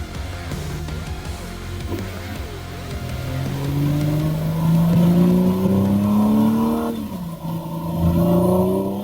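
An Audi S5 engine accelerating hard on a winding mountain road, its rising note climbing steadily through the gears with a brief dip at a shift, loud and close with no talking.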